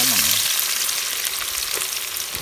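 Sliced onions with a little salt frying in hot oil in a pan for quail biryani masala: a dense, steady close sizzle with faint stirring, no voices.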